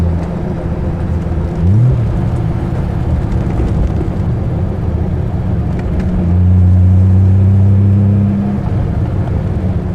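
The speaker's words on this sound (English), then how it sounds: "The car has kind of a Mickey Mouse exhaust on it, so that's loud, but it's serviceable." Steady, loud engine and exhaust rumble from a 1970 Triumph TR6 with a loud aftermarket exhaust cruising in fourth gear, with a short revving swell near the start and a firmer engine drone later.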